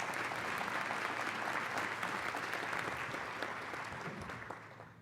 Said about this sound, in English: Please give your applause today